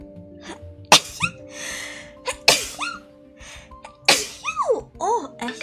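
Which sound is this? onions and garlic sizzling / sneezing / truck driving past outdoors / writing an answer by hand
sneezing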